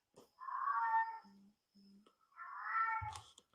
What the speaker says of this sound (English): a couple second video, but of my friend's cat meowing